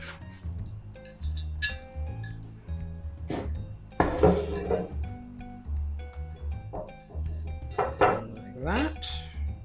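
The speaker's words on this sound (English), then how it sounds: "bolt goes through, nut goes on the end" Steel ITX case parts are fastened with a bolt and nut, giving a series of bright metallic clinks and small clatters. A voice talks at times over the handling.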